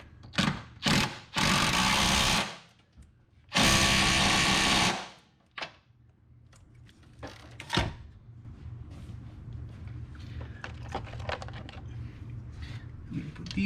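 A power tool spins up in two loud, sustained bursts while retightening body-side transmission mount bolts on a 2005 Honda CR-V, followed by lighter clicks and a low, steady background hum.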